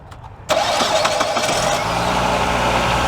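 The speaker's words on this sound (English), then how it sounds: "The last thing you got to do is start the engine," A 2002 Mitsubishi Lancer engine cranks briefly and catches, then settles into a steady, loud idle close by, with no talking.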